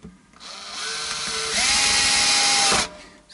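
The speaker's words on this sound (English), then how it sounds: "here we are with new screws going in" A power driver whirs as new screws go into a Stratocaster-style partscaster guitar: a rising mechanical whine, one sustained run that steps up in pitch and loudness halfway, then stops abruptly.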